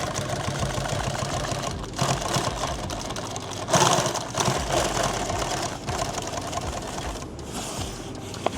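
A sewing machine stitches a hem in fabric, running as a continuous mechanical whir and clatter close by, with a few short pauses and slight changes in pace.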